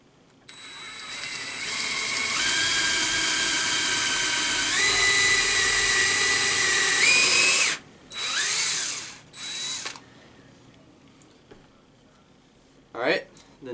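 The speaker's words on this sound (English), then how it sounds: "you're going to drill into the top of it. So drill right in the center of it" Power drill boring into the top center of a floating cliff hanger, a close, loud steady whine that shifts pitch as it speeds up, then stops, followed by a couple of brief shorter bursts.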